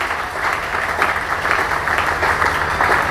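A church congregation applauding during a Bible seminar sermon, a dense, sustained patter of many hands clapping throughout, loud and fairly close, with no speech over it.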